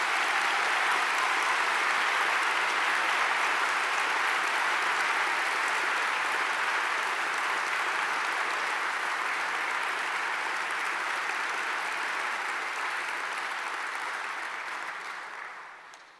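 Sustained applause from an audience at a 2019 honors convocation, a dense, steady wash of clapping that holds evenly for about fifteen seconds before tapering off at the end, with no voices over it.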